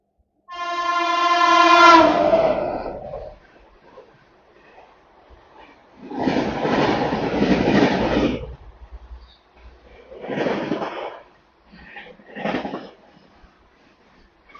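The Kovai Superfast Express sounds a loud horn blast, then rolls on after leaving Tiruvallur with bursts of rumbling wheel and carriage noise rising and fading, close and loud.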